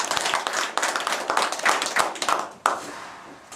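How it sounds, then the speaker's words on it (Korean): Attendees at an alumni association committee meeting clapping after an appointment is announced: a modest group's close, crisp hand claps that rise and fall, then thin to a few scattered claps before stopping, with no speech. "박수를 한번 치죠"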